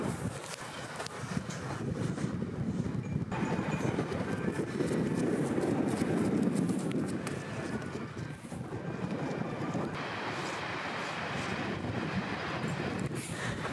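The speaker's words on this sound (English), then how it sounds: "It's windy." Steady wind roars and buffets the microphone throughout at a motocross race, rising and falling in a broad, continuous rush.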